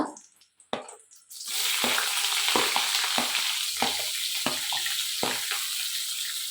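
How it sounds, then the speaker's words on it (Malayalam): Sliced onions and green chillies hit a hot pan and sauté with a loud, continuous sizzle broken by scraping stirs, following a few quiet clinks at the start. "സവാളയും പച്ചമുളകും ചേർത്ത് കൊടുക്കുക"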